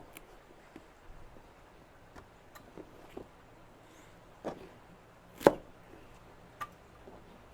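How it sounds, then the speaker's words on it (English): Three celery stalks being chopped on a cutting board for New England clam chowder, a quiet, irregular series of soft knife taps spread out over the clip, with one sharper, louder strike near the end. "Now we've got 3 stalks of celery."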